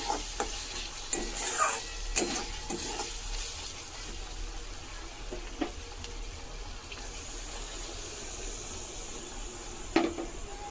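Water poured into a pan of well-fried masala for a spicy fish curry, giving a close, steady sizzle and bubbling hiss with occasional clinks and stirring, without any speech.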